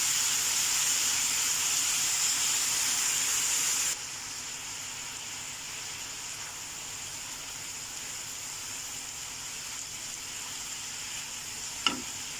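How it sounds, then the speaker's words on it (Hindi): Chicken pieces fry in a pan for fajitas, a broad steady sizzle and hiss that drops noticeably in intensity partway through, with a single brief clink of a utensil near the end. "अभी 2 मिनट चिकन को फ्राई करना है, ताकि चिकन का जो स्मेल है वो ख़त्म हो जाए।"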